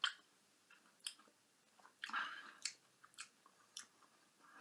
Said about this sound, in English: It's absolutely filled with crunchy seed.